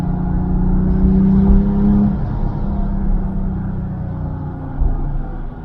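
A Porsche accelerates up through its gears, the engine loud and close with a steady drone and a brief rise in pitch before settling.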